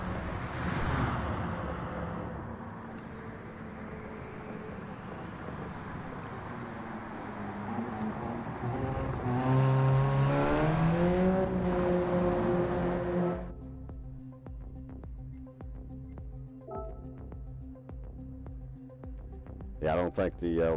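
Race car engines in Gran Turismo 7 drone loudly and steadily, one swapped engine rising in pitch through a rev climb before cutting to a lower, rougher note, with people talking over the game sound.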